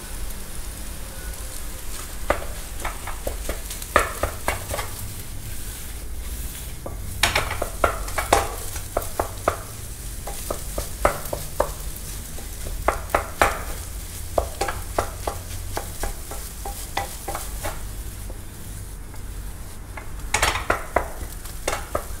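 Fried rice with salt and black pepper sizzles steadily in a hot pan, while a spatula stirs and scrapes with irregular metallic clinks and scrapes throughout.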